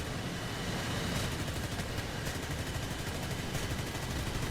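Hispano cannons firing from a Sea Hawk FGA.6 jet in War Thunder, a dense continuous roar of rapid gunfire and engine noise with a few sharper bursts standing out, steady and loud throughout.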